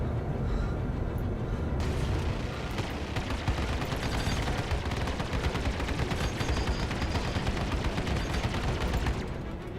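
Dense, continuous weapon fire from spaceships in the video game Star Citizen, a loud rapid rattle of shots layered over a booming rumble that barely lets up, with no talking.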